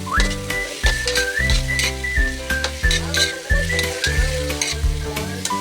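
Onions frying in a pan, with a loud, close sizzle and rhythmic stirring knocks, while a melodic whistled tune runs through the sound throughout.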